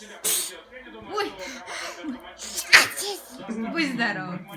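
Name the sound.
child sneezing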